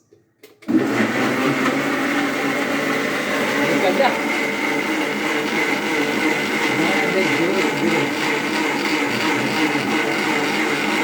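An electric juicer switches on and runs steadily at a loud, constant whine for several seconds, with its speed setting being raised.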